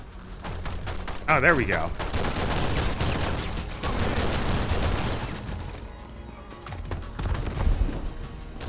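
Gunfire in a Matrix video game, rapid volleys of shots rattling in steady bursts over several seconds, with someone talking briefly over the shooting.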